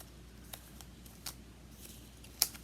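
Scissors snipping apart leftover paper butterfly ephemera, a few faint, short crisp cuts spaced apart in a quiet room, with one sharper snip near the end.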